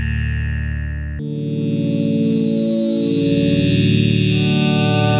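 A sustained Behringer Pro VS Mini vector synth pad that shifts partway through into a brighter, distorted, shimmering texture with chorus and echo, loud and continuous without any voices.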